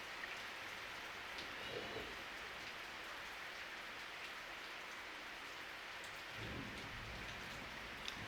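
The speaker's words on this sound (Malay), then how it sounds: "Lebat tempat cikgu hujan." Heavy rain pouring down in a thunderstorm, a dense, constant hiss that stays fairly faint throughout, with low rumbles of thunder swelling briefly twice.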